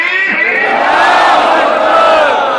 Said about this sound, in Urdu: دونوں ہاتھ بلند کر کے نعرے تکبیر